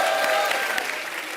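A studio audience at a TV comedy show breaks into loud, dense applause that holds steady for a moment, with faint cheering mixed in.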